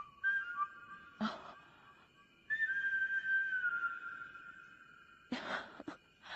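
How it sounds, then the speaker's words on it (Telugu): A person whistling in a horror film: long, thin sustained tones, each holding a steady pitch, broken by short sharp bursts of noise, with eerie near-silence between the phrases. "అది మా రాహుల్ విజిల్."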